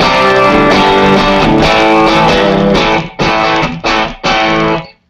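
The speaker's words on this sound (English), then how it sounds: "And so this is what the 808 sounds like." Overdriven electric guitar with Dynasonic pickups running through an 808 overdrive pedal: sustained, gritty chords ring for about three seconds, then a few short chopped stabs before it cuts off.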